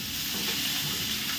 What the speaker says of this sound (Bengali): মাছটা ওদিকে হচ্ছে, ভাজা হোক।